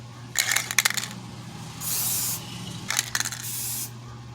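A bike's rusty front rack is spray painted black in several close hissing bursts. Short rattling sprays alternate with one longer steady hiss, all heard alone without speech.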